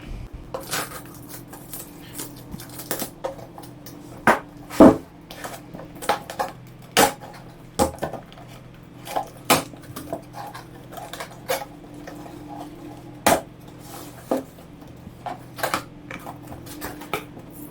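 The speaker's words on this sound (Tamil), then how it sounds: "வாங்க பாக்ஸ் ஓப்பன் பண்ணலாம்." Unboxing an 80W 2.1 Dolby Audio soundbar: scattered close crinkles, taps and cardboard knocks at an irregular pace, with a few sharper clacks, quiet handling and no talk.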